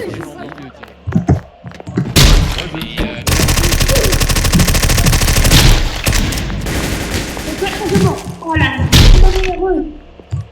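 Rapid automatic gunfire in a game server scene, loud bursts and a long sustained volley mixed with thuds, while voices shout over and between the shots.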